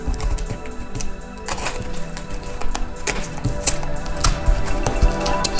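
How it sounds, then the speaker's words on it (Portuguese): A box cutter slices open a mail-order package of vinyl records shipped from Germany, making a run of sharp, dry scraping cuts and crisp clicks at close range, with faint rustling of packaging between strokes. "Agora, acho que é só abrir mais aqui, galera, ó. Passar o estilete aqui."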